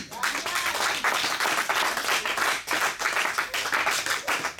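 A church congregation breaks into sustained applause, many hands clapping at once in a dense, lively wash, with voices faintly mixed in.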